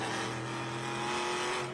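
Inboard onboard sound of a TA2 Trans Am race car engine at Sebring, a steady loud drone with strong harmonic tones held throughout, no talk.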